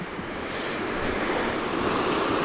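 River water rushes steadily over boulders along a hiking trail to a dam in Missouri's Mark Twain National Forest, a continuous close broadband roar with no voices.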